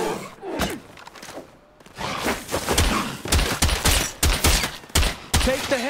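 Gunfire shooting a feral zombie in State of Decay 2, a rapid fusillade of loud sharp shots in uneven bursts after a brief quieter moment, with thuds and impacts mixed in.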